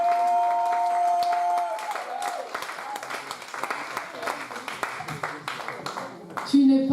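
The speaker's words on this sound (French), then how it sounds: "Acclamons pour le Seigneur." A church congregation at an International Women's Day service in Rennes breaks into applause, dense clapping rolling steadily beneath a voice and music.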